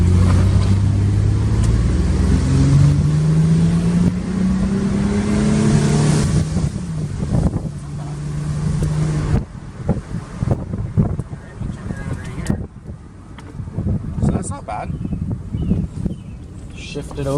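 A 1999 Ford Mustang, a cheap $300 car, drives off with its engine rising and falling through gear shifts, rumbling loud under heavy wind noise while people talk over it.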